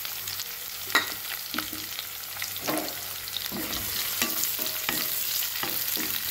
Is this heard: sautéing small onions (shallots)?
yes